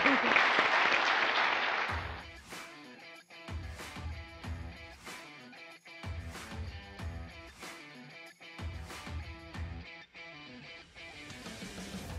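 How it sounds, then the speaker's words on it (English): A retreat session audience gives a round of applause, a thick burst of clapping that lasts about two seconds before giving way to rhythmic music with steady beats. "let's give Jeff the round of applause he deserves."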